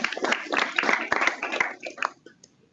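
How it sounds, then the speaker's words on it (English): An audience at an astronomy science talk gives a brief round of applause, scattered claps over a couple of seconds that thin out and fade. "let's give him a quick round of applause"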